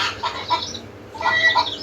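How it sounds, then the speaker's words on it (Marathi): A hen clucks in short bursts close by, a few quick clucks, a pause, then another cluster of clucks. "कोंबडी बघ कोणाची"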